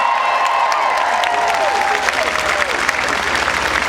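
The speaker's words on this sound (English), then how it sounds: "Give Ted a big round of applause." Rally crowd applauds and cheers for a former governor at a political event, loud continuous clapping with scattered shouts and whistles, a voice faintly audible within the din.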